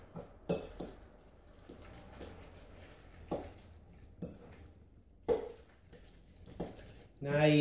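Cooked kimchi and rice being mixed in a bowl, with a run of soft scraping, clinking spoon-against-bowl knocks at an uneven rhythm, fairly quiet and close, ending in a louder rustling burst.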